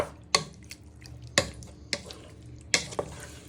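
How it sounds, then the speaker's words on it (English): Squid cooking in a pan with chorizo, shallot and garlic gives a steady sizzle and fry, broken by three or four sharp clanks of a spoon stirring against the pan, close and without talk. "We just want this squid to start cooking in all our chorizo"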